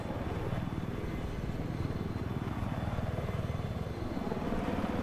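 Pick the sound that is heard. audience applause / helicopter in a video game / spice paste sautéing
helicopter in a video game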